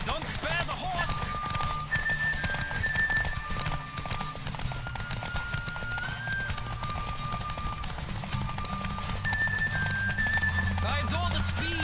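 Horse hooves gallop in The Witcher 3 with a steady, rapid clip-clop, heard under continuous game music and ambient noise throughout.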